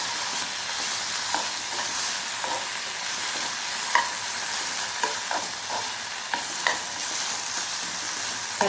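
Vegetables stirred with a spoonful of tomato ketchup in a hot pan for Indian-style Chinese bhel, a steady close sizzle of frying with repeated scraping clicks of the spoon throughout.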